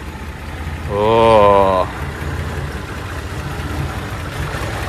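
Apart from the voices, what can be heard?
Nissan Skyline Kenmeri engine idling with carburetors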